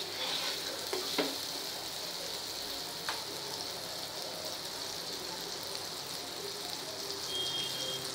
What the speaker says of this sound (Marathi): मी तवा तापत ठेवला आहे, त्यावर आपल्याला हे बटर टाकायचं आहे.